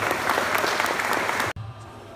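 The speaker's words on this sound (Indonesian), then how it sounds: "Tepuk tangan untuk Indonesia." A crowd at a student send-off ceremony applauds for Indonesia, a loud dense burst of clapping that cuts off abruptly after about a second and a half, leaving quieter room tone with a faint voice.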